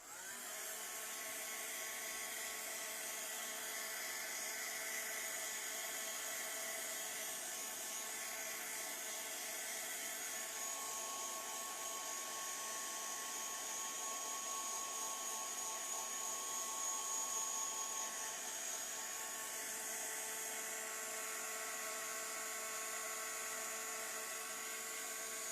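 A heat tool on its lower setting 1 blows steadily while drying a handmade autumn card, a continuous loud whirring hiss with a high whine that holds unbroken throughout, with no voices.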